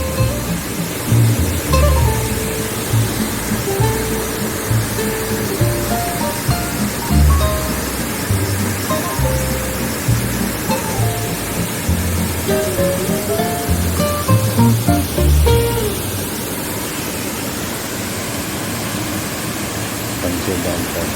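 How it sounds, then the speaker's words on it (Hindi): Water pouring over the Panchet Dam spillway, a steady loud rushing roar that stays broad and continuous throughout, with a voice talking over it. "पंचे डैम का ब्यूटीफुल नज़ारा देखिए, कितना सुंदर है। जो पानी गिर रहा है ना"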